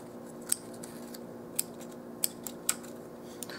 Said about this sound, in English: I'm cutting this off fairly straight with the end of the toolbox.